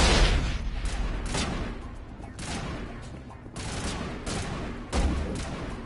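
Gunfire in the Mass Effect video game comes as repeated loud bursts and shots at irregular intervals, close and dense, with a continuous rumble of combat beneath them.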